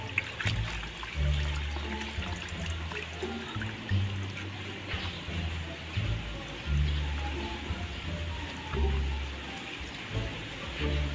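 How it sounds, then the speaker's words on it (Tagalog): Chicken intestines (isaw) being washed in water outdoors for Filipino street-food cooking, with steady splashing, sloshing and trickling water throughout, fairly close and continuous, with no talking. "So hugasan natin ang ating isaw para sigurado malinis talaga ba."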